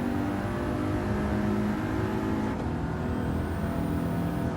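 An Audi TT coupe engine revs at a steady high pitch in Gran Turismo 7, then shifts briefly and climbs again. The engine drones loudly and alone with no voices.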